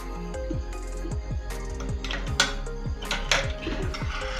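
A spoon stirs Rooh Afza sharbat in a metal vessel, giving a quick run of light clinks and scrapes against the sides, close up and alone without talking.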